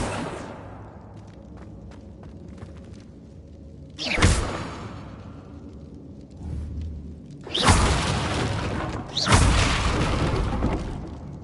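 Accio spell effects in Hogwarts Legacy: sharp magical whooshing bursts with booming impacts, one early then two more later, separated by a quieter ambient game bed.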